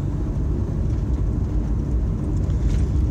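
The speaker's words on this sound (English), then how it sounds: "Helicopter just taken off, flying over the top of us." A low, steady helicopter rotor-and-engine roar drones throughout, dense and rumbling as the helicopter takes off and passes close overhead, with no voices.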